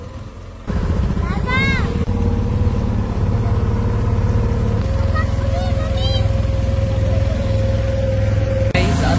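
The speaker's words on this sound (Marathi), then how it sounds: "ही जी बोट आहे ही पेट्रोल इंजिनवर चालते." A petrol-engine boat at the Bhigwan bird sanctuary in Maharashtra starts up and then runs, its motor droning loud and steady at close range throughout.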